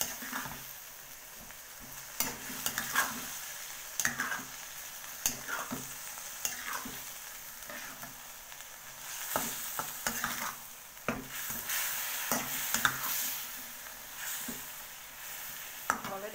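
Fried tempeh stirred through a pan for spicy orek tempe, a spatula scraping and clacking in irregular strokes over a steady background sizzle, close and moderately loud with no talking.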